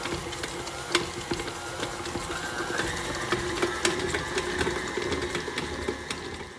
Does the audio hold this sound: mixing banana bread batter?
yes